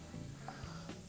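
Onion and garlic sizzling in hot oil with toasted spices for a peach chicken curry, a steady close frying crackle throughout a short moment with no talking.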